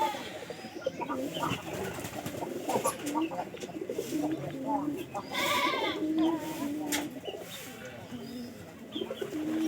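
Pigeons at a loft coo softly and repeatedly, with bleat-like calls mixed in, against a busy, moderately quiet background.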